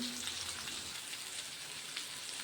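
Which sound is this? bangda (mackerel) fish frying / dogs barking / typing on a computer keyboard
bangda (mackerel) fish frying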